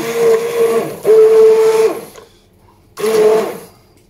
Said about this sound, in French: un petit coup de mixeur plongeant dans la soupe